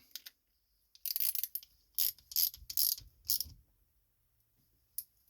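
A part being tightened back onto the carburetor of a 1992 Toro Wheel Horse riding lawn mower: several close, loud bursts of ratchet clicking, one to two seconds apart, with no talk.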